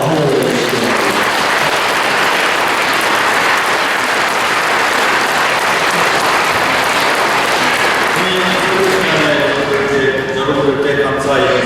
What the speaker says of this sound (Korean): 여러분들 큰 박수로 축하와 환영을 해주시기 바랍니다.